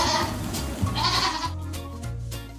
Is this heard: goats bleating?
yes